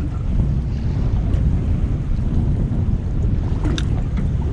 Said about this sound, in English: Wind is really starting to pick up.